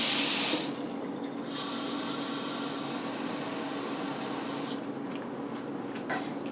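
Water poured from a tap or jug into a cup holding flour, a steady splashing pour that runs for a few seconds and then stops, close and fairly quiet.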